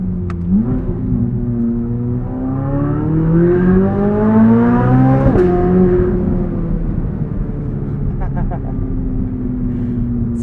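A 2023 Chevrolet Corvette Z06 engine revs steadily higher while driving, its pitch climbing before dropping at a gear change, then droning on.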